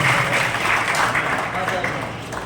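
Applause from an audience at a Gujarati book launch ceremony, a broad continuous clatter of clapping that stays fairly loud for the full stretch and thins slightly toward the end, with some voices mixed in.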